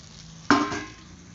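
Capsicum, drumstick, pointed gourd and ridge gourd are tipped into hot oil in a pan for a Bengali fish curry, giving one sudden loud sizzle that rises sharply and then settles into a steady, fading fry.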